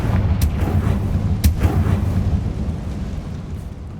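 Confringo explosive spells blasting in Hogwarts Legacy, a few sharp cracks followed by deep rumbling booms, loud and close with a rolling low tail.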